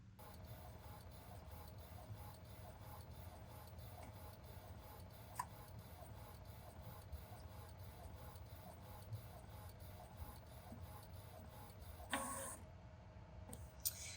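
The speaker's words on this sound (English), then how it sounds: "I'm gonna press print, and it's going to print over on my Sawgrass sublimation printer" A Sawgrass sublimation printer runs steadily with a rhythmic ticking and soft mechanical whir, quiet and continuous, ending with a brief louder shuffle near the end.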